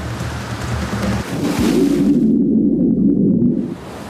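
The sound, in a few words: Atlantic ocean waves around a Viking ship replica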